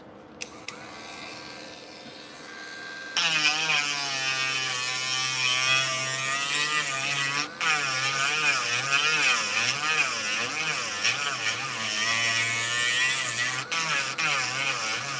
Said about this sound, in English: You have to use a drum sander like this to be able to do this.